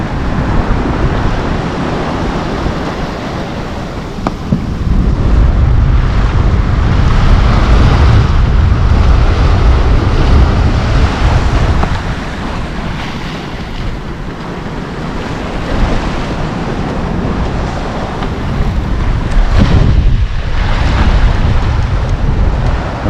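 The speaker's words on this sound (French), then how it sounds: "La vague dans le cul qui arrive." Sailboat surfing down waves toward a river mouth off Galicia, Spain: loud rushing water and gusting wind buffeting the microphone, with surges of surf swelling and easing in waves throughout, no talk.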